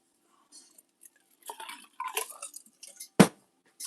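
Ice cubes clink and rattle against a glass of water in a few short, scattered bursts, ending in one louder knock, close and otherwise quiet with no talking.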